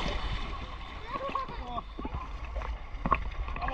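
People swim in a river at a ghat on the Padma, their strokes making scattered, irregular splashes and gurgles close by, mixed with a voice, a few sharper splashes standing out.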